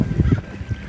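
Ducks at Lake Murray in San Diego give a few loud, close honking quacks in quick succession, with no talk over them.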